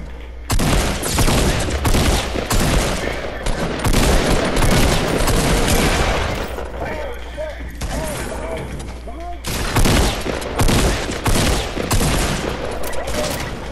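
Gunfire in the video game Fortnite rattles in loud, rapid bursts that nearly fill the stretch, pausing briefly midway before more shots crack out, while players shout and talk over it.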